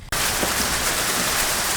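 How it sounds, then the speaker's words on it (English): Hail comes down hard outdoors on a road trip through Marysville. It sounds as a dense, steady rattling patter that starts abruptly and stays loud with no talk. "There's so much hail out there."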